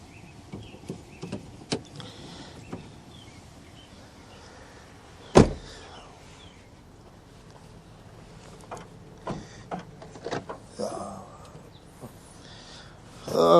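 A car's power window runs on its switch inside a salvage-yard vehicle, a brief motor whir among scattered clicks and handling noises, with a sharp thud midway and quiet surroundings.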